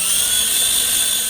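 A power drill runs with a loud, steady high-pitched whine and no breaks, backing out door bolts on a Jeep Gladiator JT.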